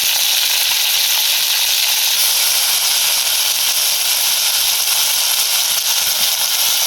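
Chilies dropped into hot oil, a loud, dense, close sizzle and hiss that holds steady throughout with no pauses.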